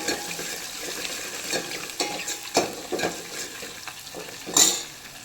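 Chopped green chillies sizzle in hot oil in a pan for a buttermilk curry, a steady crackle broken by several sharp stirring scrapes and clinks, loudest near the end, with no voices.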